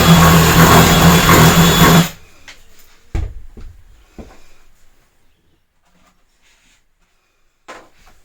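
A drill boring out a hole during RV work, a loud steady whirring grind that stops abruptly, followed by a few sharp knocks and clatters of handling in quiet surroundings.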